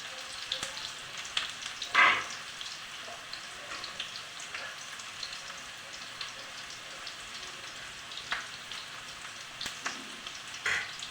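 Onion fries in oil while stuffed capsicum is being made, giving a low continuous sizzle with scattered small pops and crackles and one louder spatter early on. The sound stays fairly faint and steady.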